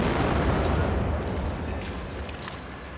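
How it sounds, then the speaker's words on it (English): A controlled explosion sets off a heavy boom that fades into a long, rumbling roar, loud and broad throughout. "Later they located it and conducted a controlled explosion."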